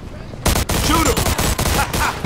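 Loud rapid gunfire in Mafia II: Definitive Edition, a burst of close automatic shots with sharp cracks layered over game character voices shouting during a firefight.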